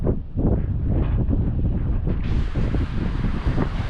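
Strong wind buffets the microphone on a sailboat at sea with the mainsail down, a loud, continuous roar with gusty surges and rushing water beneath, growing brighter and harsher toward the end.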